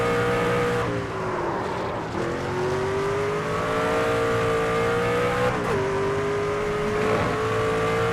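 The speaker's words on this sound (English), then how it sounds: "I love the way it sounded on the rumble strips there" NASCAR 25 race car at speed, a close, strongly pitched engine whine holding near-constant revs, briefly dipping twice as it runs over rumble strips before climbing again.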